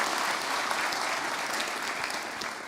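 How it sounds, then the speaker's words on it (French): An audience at a conference on critical thinking applauds, a dense, even wash of clapping that holds steady throughout at moderate loudness. "vous Ce pouvez vous soir, applaudir très fort pour ça déjà"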